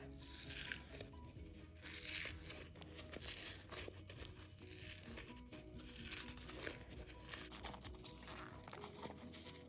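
A covering is peeled off a pair of cork heels being upcycled, producing quiet, continuous crinkling and tearing sounds with a few sharper rips, close and faint.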